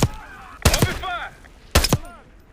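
Sharp, loud gunshots ring out in a Call of Duty Black Ops 6 campaign firefight: a single crack, a quick pair, then another shot, each with a ringing tail, and voices call out between them.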